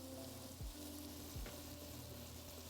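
Onions and aromatics for a chickpea potato curry fry and brown in a pot with a faint, steady crackling sizzle, broken by two soft low scraping thumps of a utensil against the pot.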